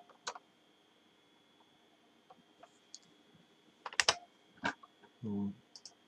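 Sparse computer keyboard keystrokes and clicks while cutting, pasting and tabbing lines of code; quiet, isolated taps separated by long pauses, with no speech.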